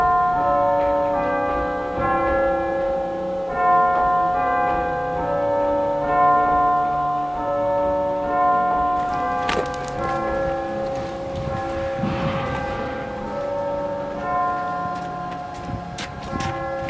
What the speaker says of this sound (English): These are the tubular bells, the Harringtons.